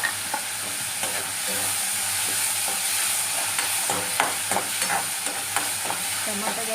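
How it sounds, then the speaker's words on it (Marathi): Chili and tomato fry in a pan with onion, a continuous sizzle broken by close scraping stirs, with no talking. "आता मिरची टाकूया आणि टमाटा टाकून देऊ।"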